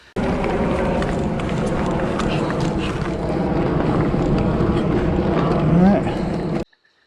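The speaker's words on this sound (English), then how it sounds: "it's the oil bypassing those shim stacks back and forth when you're circulating the shock" Manitou Mara inline rear shock on a mountain bike while riding, oil forced through its shim stacks in a steady rushing hiss mixed with loud trail and wind noise, cutting off abruptly near the end.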